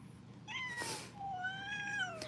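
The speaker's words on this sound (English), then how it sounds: "Do you guys hear them growling at everybody?" Two cats growl and yowl at close range in drawn-out, rising and falling tones, loud and hostile against a quiet background.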